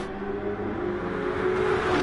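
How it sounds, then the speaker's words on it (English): Formula One car engine in a 1998 Brazil Grand Prix race sim, a steady high-pitched whine from a car holding speed, with a slight dip as the throttle is briefly lifted. "just heard that little lift on the throttle there"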